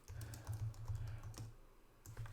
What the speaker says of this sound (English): I'm typing it out here, and you can't see it because I'm typing on top of the image